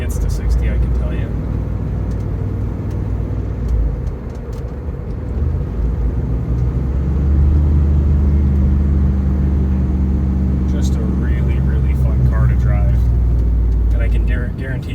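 A 1993 Callaway C8 SuperNatural Camaro accelerates, heard from inside the cabin as a steady, loud low engine rumble that swells partway through, with some talking over it.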